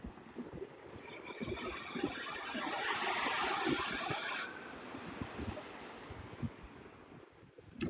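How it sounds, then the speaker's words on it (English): Surf washes ashore at Navarre Beach, Florida, around sunrise, a broad hiss that swells to a peak in the middle and then eases, mixed with gusty wind buffeting the microphone. "I love the ocean sounds"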